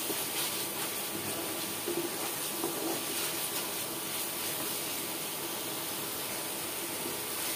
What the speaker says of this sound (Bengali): এভাবে করে আমি 2-3 মিনিটের মতো মশলাগুলো কষিয়ে নেব।